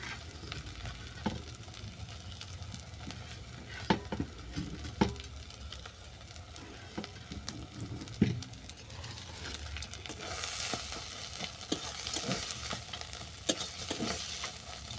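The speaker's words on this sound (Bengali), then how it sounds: "বড়ি গুঁড়োটা ভালো করে মিশিয়ে নিলাম" Powdered fried lentil dumplings being stirred into a water lily paste in a pan, with faint steady sizzling, soft scraping strokes and occasional sharp utensil knocks, close and quiet throughout.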